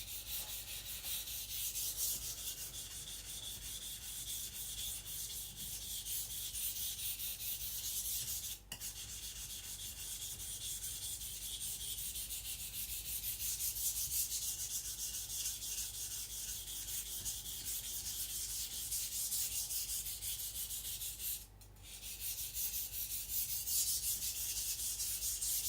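Steady, continuous scraping of a knife being sharpened and thinned on a sharpening stone, close and fairly quiet, with long even strokes and only two brief pauses.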